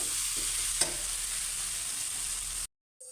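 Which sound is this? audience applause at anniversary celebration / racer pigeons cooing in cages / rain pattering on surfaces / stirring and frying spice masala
stirring and frying spice masala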